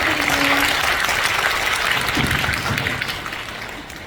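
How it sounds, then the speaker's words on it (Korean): Audience applause at a Busan International Film Festival screening, a dense, steady wash of clapping throughout that fades slightly toward the end. "오늘 박수 부탁드립니다"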